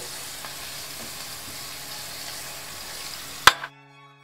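Red snapper seasoned with salt and black pepper cooks over an open fire, a steady, moderate sizzle and crackle throughout, ending in a sharp clatter followed by near silence.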